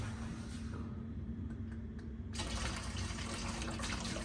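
Running water pours steadily into a cat water fountain, growing louder and brighter partway through as the flow increases, with a faint background hum.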